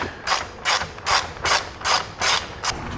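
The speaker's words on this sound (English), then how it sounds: "It is a 10mm. We're gonna go ahead and just get these removed." Ratchet wrench clicking as it backs out 10mm bolts on a Ford F-150 grille, about seven quick bursts of dense mechanical ticking in steady rhythm, close and fairly loud with no talk.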